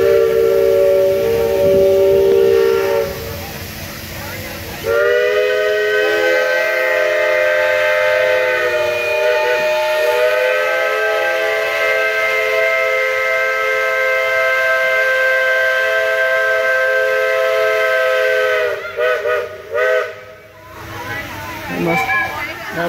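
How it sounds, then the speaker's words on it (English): A town's 9 a.m. siren whistle sounds during a Fourth of July outing, a loud, sustained tonal wail holding steady for many seconds with slight pitch shifts, while people talk over it. "That must be the 9 a.m. whistle."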